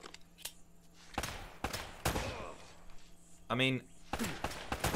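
Gunshots in an Uncharted video game firefight crack out as several sharp, separate bursts spread across the moment, with one louder ringing impact near the end, all set under a player talking.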